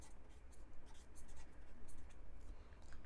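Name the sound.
writing during a lesson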